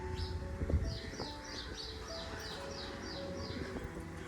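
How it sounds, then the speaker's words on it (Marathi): Birds give a repeated series of short, evenly spaced chirps near a quiet temple by a creek, faint and somewhat distant above low background hum. "बघा कसे पक्षी ओरडत आहेत"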